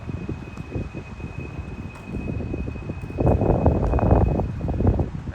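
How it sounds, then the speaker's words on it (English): Wind gusts across an open riverside on a cool day, a broad low roar that buffets the microphone and swells louder toward the end, with faint rustling beneath. "Hopefully the wind's not too terribly bad with the filming."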